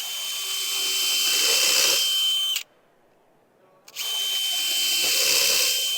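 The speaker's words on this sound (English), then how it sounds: "I'll drill into some epay here so you can see how well it performs." A drill fitted with an iCARB indexable carbide bit bores into epay hardwood, a loud steady high whine that cuts off for about a second mid-clip, then resumes just as strongly.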